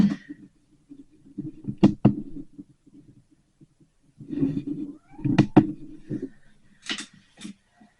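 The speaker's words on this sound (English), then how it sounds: "The cat wanted in." A cat meows to be let in, giving several separate, fairly close cries in short bursts with quiet gaps between them.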